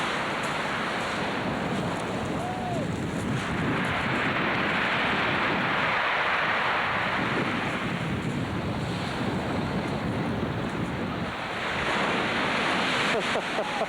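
Atlantic Ocean waves and strong wind at the sea cliffs, a continuous loud roar of surf with heavy wind buffeting the microphone, steady from start to finish.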